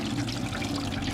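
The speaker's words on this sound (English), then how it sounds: "This is my pure rainwater going straight in." Pure rainwater pours steadily into a container, a continuous close splashing flow with no break.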